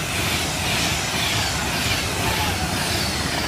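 A train passes straight through Cheddington station on the Birmingham New Street to London Euston line, a loud sustained roar of wheels and rushing air, steady and close for the whole stretch.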